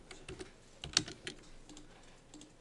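A short command is typed on a computer keyboard, a handful of close, light key clicks with one sharper tap standing out, with no talking over it.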